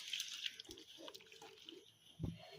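Fish is being washed and rubbed by hand under running water, making soft, close splashing and dripping, fairly quiet, with a brief thud near the end.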